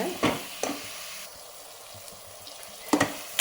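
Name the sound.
onions sautéing in a pan for chicken biryani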